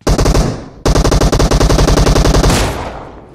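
Loud automatic gunfire in a shooter video game: one rapid burst, a brief gap, then a longer sustained burst of evenly spaced close shots that tails off into echo.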